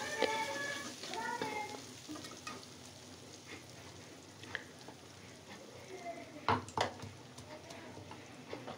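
Dried chilies, garlic and onion frying in soybean oil in a pan, with a soft continuous sizzle and occasional clinks and scrapes of a utensil, including a sharper knock near the end.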